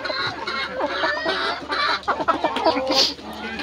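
Several hill-breed free-range chickens cluck and chatter close by, a busy overlapping flock with one sharper squawk near the end.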